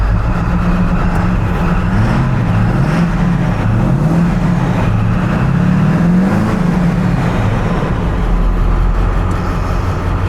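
A triple-turbo 7.3 diesel truck engine drones loud and close, with a low rumble that rises and falls in slow, repeated rev swells and never climbs high.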